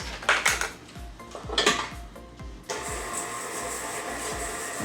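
A spoon works butter and brown sugar together in a bowl with a rhythmic scraping and knocking, and a steady whirring hum joins in partway through.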